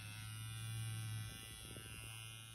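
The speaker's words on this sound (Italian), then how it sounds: "il suo nuovo spazzolino, che è del macchinino Hot Wheels, ed è elettrico, vabbè, a batteria" A battery-powered electric toothbrush styled like a Hot Wheels car gives a steady low motor buzz under a constant background hum, with no voices.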